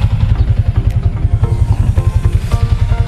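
A stock Yamaha Sniper 155 motorcycle, almost four years old with only routine oil changes, idles up close with a loud, steady pulsing putter and light mechanical clatter.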